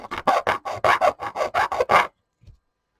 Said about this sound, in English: You basically want to sand that